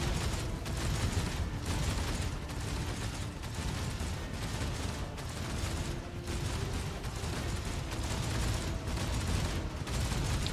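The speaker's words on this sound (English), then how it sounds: "The phone transmitted the sound of gunfire and death screams." Continuous rattling gunfire in the video game Warhammer 40,000: Rogue Trader fills the scene, dense bursts overlapping with rumbling booms, steady and loud throughout with no voices.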